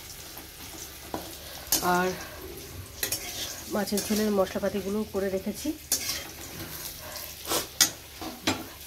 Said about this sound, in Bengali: এখানে মাছের ঝোলের আলুটা ভাজা হচ্ছে